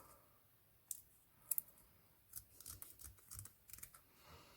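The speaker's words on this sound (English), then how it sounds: "I'll use my ribbon scissors." Ribbon scissors trimming a hair-bow ribbon, a few quiet close snips and clicks, two sharp cuts early then a cluster of softer crisp snipping sounds, faint overall with no talk.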